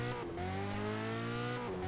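A modded McLaren 12C engine in the racing game Test Drive Unlimited 2 holds a steady, loud droning tone, rising slightly in pitch with a brief dip as it shifts, and no talking.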